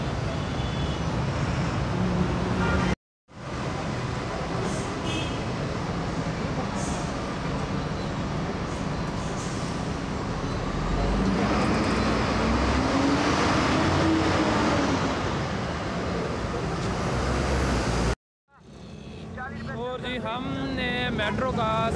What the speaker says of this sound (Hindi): मेट्रो पे बैठते हैं